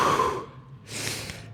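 Heavy, ragged breathing after a set of leg exercises during bodybuilding prep: a loud gasping exhale, a brief pause, then another breathy breath, close to the listener.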